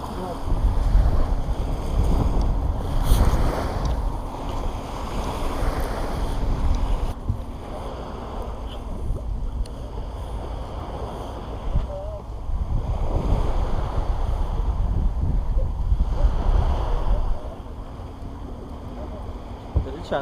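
Strong wind buffeting a boat on the Red Sea near Zafarana, a heavy low rumble of wind noise with washing water, and people talking intermittently over it.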